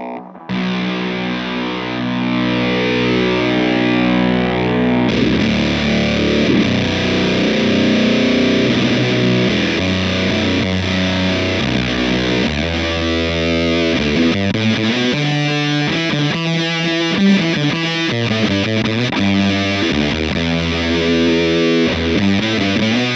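An instrument played through an EarthQuaker Devices Sunn O))) Life Pedal distortion with boost, giving a loud, thick, continuous fuzz of sustained low chords and shifting notes that has no talking over it.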